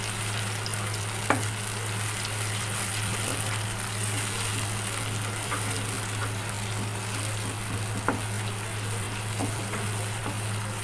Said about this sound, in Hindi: आप ये देखें इस पर कितना अच्छा मसाला इसका भून रहा है।